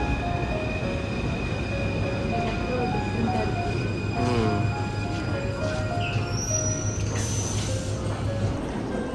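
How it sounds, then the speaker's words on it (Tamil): A Paris metro train runs steadily, rumbling with a high electric whine and brief wheel squeals, a loud continuous ride from start to finish. "நாங்கள் வந்து இப்போது மெட்ரோவில் ஏற போகிறோம்."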